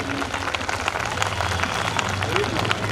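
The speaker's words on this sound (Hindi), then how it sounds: "उसके लिए इतनी तालियां बजना चाहिए कि बाहर से लोग भी सोचने लगे" An audience at a school annual function claps in a dense, continuous roar under a speaking voice, loud and close throughout.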